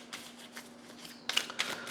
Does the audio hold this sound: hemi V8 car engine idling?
no